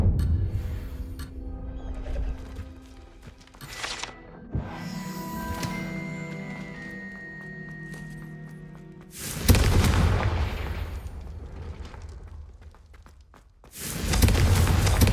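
A Confringo blasting spell explodes in the Hogwarts Legacy video game, with booming blasts and thuds among layered game sound effects and music, and a heavy rumbling burst near the end.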